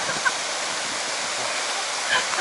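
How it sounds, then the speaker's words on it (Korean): Wind rushing steadily outdoors at Seoknamsa, a Buddhist temple in Ulsan, as a broad, even hiss with no voices over it, sounding much like flowing water. "여기 바람 부는 거 봐"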